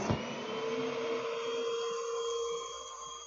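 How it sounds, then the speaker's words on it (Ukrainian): A vacuum cleaner switches on with a thump and settles into a steady, loud whirring hum that runs without interruption. "Вмикаємо пилосос."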